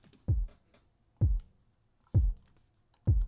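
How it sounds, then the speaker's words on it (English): A lone kick drum from the Battery 4 sampler hits four times at an even pace, each thump short, deep and close, with silence between hits. "In the second verse, I add this kick drum."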